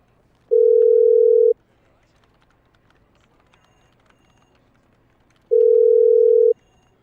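A phone line rings back while a call is being placed: two steady one-second tones about four seconds apart, clear and loud over a quiet background, with no talking.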